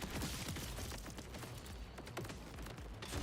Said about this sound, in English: I'm glad the fireworks just hit the fucking ceiling